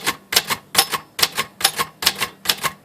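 Keys struck on a Royal Safari Aristocrat typewriter under repair, giving a crisp series of about a dozen close, even clacks in steady rhythm, each with a thin metallic ring, and no voices.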